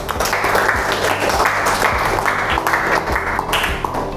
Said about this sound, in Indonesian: Beri tepuk tangan dulu buat kelompok 1